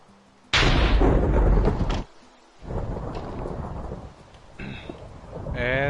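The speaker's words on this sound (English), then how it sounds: "And looks like there's thunder." A loud, close thunderclap in a Minecraft thunderstorm cracks and rumbles for over a second, then a second rolling rumble follows, with faint game sounds after.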